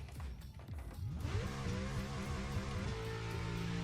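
A car drifts in the racing game Assetto Corsa, its engine climbing from a low rumble into a steady, loud rising rev that holds near and continuous, with no talking.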